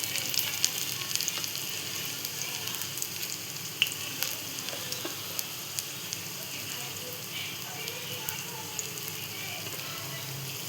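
Besan-coated bread toast fries in a pan with a constant, close crackling sizzle and small pops scattered throughout, no voices over it.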